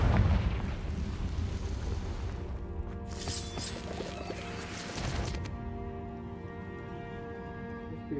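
Blasting fire spell explosion in Hogwarts Legacy, set deep in a cave: a burst of crashing, booming impact around the middle, over a steady rumbling game ambience.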